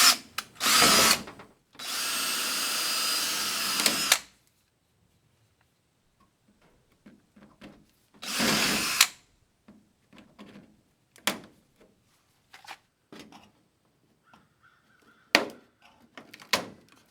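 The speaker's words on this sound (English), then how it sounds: "I was trying to do this with poor bits previously, and I couldn't drill a hole." A power drill whirs in several short bursts drilling a hole in a 2006 Fleetwood Niagara pop-up camper, one longer run of a couple of seconds, with scattered clicks and taps in the quiet between.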